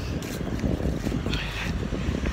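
Gusty wind buffets the microphone outdoors, a rough, steady roar of low rumbling with no one speaking.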